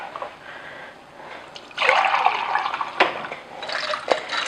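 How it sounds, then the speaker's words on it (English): Water is poured into a pot of hearty vegan beef and vegetable stew, with a steady splashing fill of moderate loudness lasting a couple of seconds and a few sharper splats near the end. "I am going to add another cup of water"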